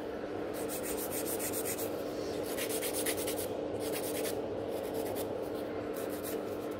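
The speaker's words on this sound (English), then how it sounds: "So I keep filing from underneath as well, just to get this nail a decent shape." A nail file rasps across a gel nail in quick, repeated back-and-forth strokes, close and fairly soft, with short pauses between bursts and no talk.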